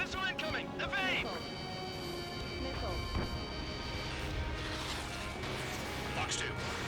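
Incoming-missile warning in the aerial combat game Ace Combat 7: a rapid series of rising electronic beeps at the start, followed by steady alarm tones and explosions, with a voice talking over it.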